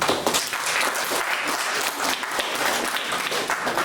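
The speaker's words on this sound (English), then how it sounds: "let's bring her in for a round of applause" An audience at a youth open mic applauds for a teenage poetry participant, a steady, moderately loud patter of clapping that carries on evenly without talk.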